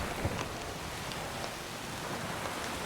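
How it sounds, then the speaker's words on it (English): Steady rain from The Witcher video game hisses evenly and continuously throughout, close and dense with soft scattered drop patter and no voices. "In this rainy weather."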